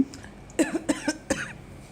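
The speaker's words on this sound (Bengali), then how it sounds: "আমার কাশি এলো।" A short run of dry coughs, four or five close bursts in quick succession, near and fairly loud against a quiet background.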